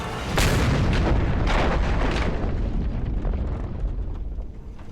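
A grenade blows up in the video game Just Cause 2, a loud booming blast followed by a rumbling, crackling roar that slowly fades over several seconds.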